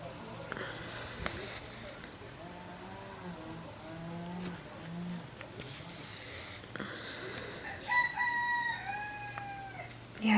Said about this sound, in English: I think there was just one problem bird out there just starting everybody off